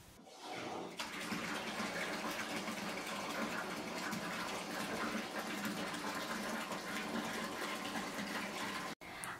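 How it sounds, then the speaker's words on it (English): A tap fills a bathtub with a steady, dense gush of water that runs on close and unbroken, briefly cut off near the end, with no talking. "So I'm going to fill up my tub the rest of the way"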